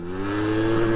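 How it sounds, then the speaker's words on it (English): A tiny moped fitted with an oversized engine runs at full throttle, giving a steady loud buzzing drone that climbs slightly in pitch over a short moment, close and with no voices. "I'm gonna absolutely full throttle the whole way down this road and see what we get."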